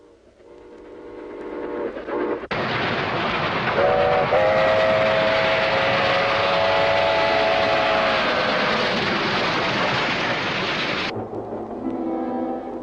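A train runs along the rails, its steady rumble loud and close, with a long sustained horn tone rising in the middle; quieter tones play before and after the passing roar, and no one speaks.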